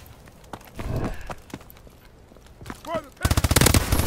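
Call of Duty Advanced Warfare gameplay with scattered shots and footsteps early on, then a loud sustained burst of rapid automatic fire at the end, and a brief voice partway through.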